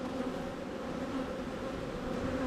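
Honey bees hum around a working beehive in a steady, close, continuous buzz with a low droning tone, with no talking.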